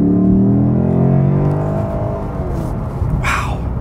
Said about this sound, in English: it sounds like a very technological V8